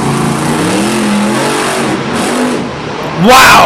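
Monster truck engine at Monster Jam Anaheim roaring at full throttle, a loud sustained mid-pitched drone that rises sharply into a high rev near the end, with an excited voice calling out over it.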